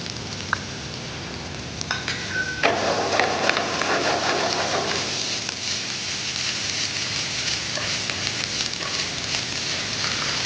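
Diced green chilli, coloured capsicum and diced onion sauté in a pan, giving a steady close hiss and crackle that swells when stirred, with a few utensil clicks and no talking.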